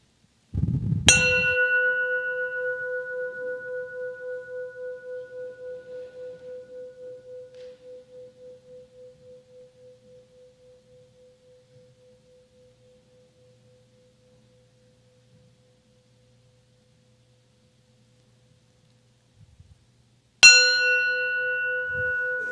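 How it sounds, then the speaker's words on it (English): A singing bowl is struck twice: the first strike rings out in a long, pure, slowly wavering tone that fades over about fifteen seconds of near silence, then a second loud strike starts the ring again. "So do you want to ring the bell on the bowl this morning?"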